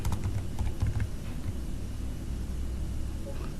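Typing on a computer keyboard during data entry, a quick run of soft close key clicks at the start that thins to sparse taps over a low steady hum, without speech.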